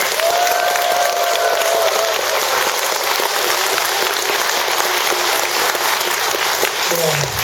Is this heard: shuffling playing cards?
no